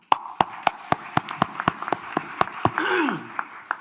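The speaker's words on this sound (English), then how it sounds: "Give him an applause." Sparse, evenly spaced claps come from a few people in a forum audience, about a dozen distinct sharp slaps. A brief voice sounds near the end.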